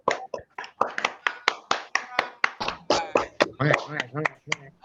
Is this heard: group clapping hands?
yes